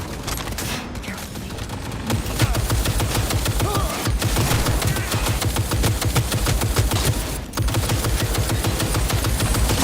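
Dense, rapid gunfire from the Cyberpunk 2077 video game, sustained automatic bursts hammering almost without pause, loud and close throughout with only brief gaps.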